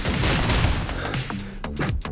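Gunfire barrage skill from the video game Reverse:1999, a dense burst of rapid shots and impacts for about a second, followed by several sharp separate bangs trailing off, loud and close with no talk.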